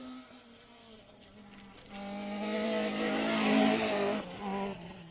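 A rally car engine revs hard on a rally stage and climbs in pitch, loud and close, with harmonic whine and tire noise, then eases off briefly and surges again.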